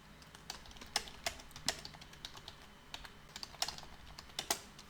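Close, quiet typing on a computer keyboard, irregular clicking keystrokes in quick bursts, with no talking.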